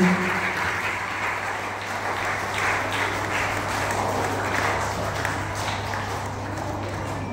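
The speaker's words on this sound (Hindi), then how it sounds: "जोरदार तालियों से एक बार मुख्य अतिथि के सम्मान में" An audience at a school summer camp event applauds loudly to honour the chief guest, a dense, steady clapping that fills the room over a low electrical hum, with no voices over it.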